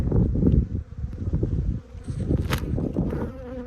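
Honeybees from a colony removed from under a shed floor in Arizona buzz steadily and close by, a dense continuous drone with small shifts in loudness and no voices.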